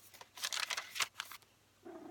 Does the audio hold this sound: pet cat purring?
yes